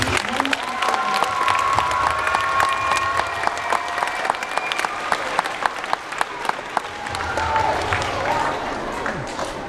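A school Veterans Day assembly audience claps and cheers steadily for honored veterans, dense applause sustained across the whole stretch with sharp individual claps standing out, and some voices mixed in underneath.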